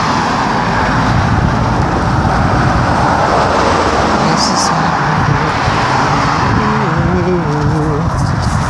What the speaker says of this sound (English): there's like, cars driving by and I still can't hear myself think half the time